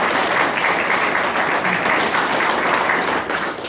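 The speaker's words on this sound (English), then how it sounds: "so a big round of applause for Jake" Sustained applause from a conference audience, a dense, steady clatter of many hands that stays loud throughout and eases slightly near the end.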